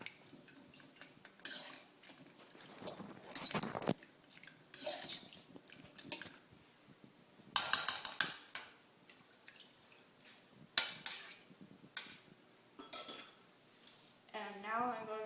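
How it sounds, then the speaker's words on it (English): Wet ingredients being stirred together in a bowl for a baking recipe, scattered clinks of utensil against bowl and soft wet slops coming in irregular bursts, close and fairly quiet, with brief gaps between strokes. "I'm going to mix up my wet ingredients."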